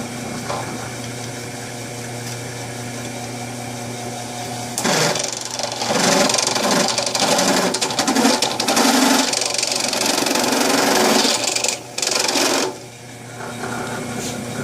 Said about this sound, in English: The step bit's going to fall down into that hole as I cut these holes in the sheet metal.